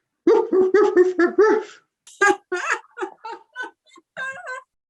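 A series of short, sharp dog barks and yelps in quick succession, close and fairly loud, with brief pauses between bursts.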